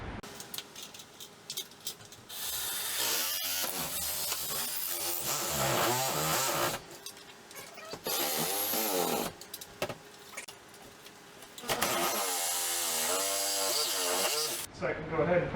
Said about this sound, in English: I'm going to cut the nails out on each end first.